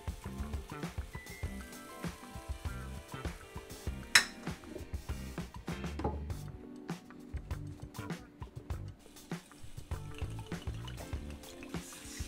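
Amaretto and sugar going into cherries in a saucepan, heard as faint pouring, dripping and clinking of pan and utensils at close range.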